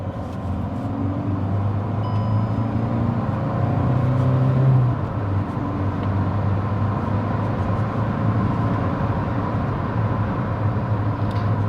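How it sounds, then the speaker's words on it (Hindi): A 2024 Kia Sonet HTX with a 1.5L diesel engine and manual gearbox accelerates on a highway, heard from inside as a steady, loud low engine drone with road noise, briefly rising in pitch before settling. "आप देखो इंजन नॉइज़ कैसी आ रही है"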